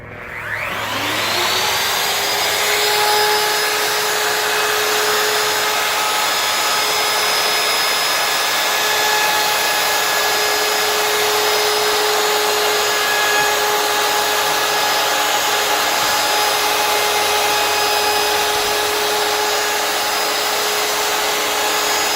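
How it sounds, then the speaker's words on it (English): A wood router with a bearing-guided bit spins up with a rising whine, then holds a loud, steady high-pitched motor roar for about twenty seconds as it cuts, with no voices. "This router bit also has a bearing on it that'll hit our wood right here and keep us from going too deep"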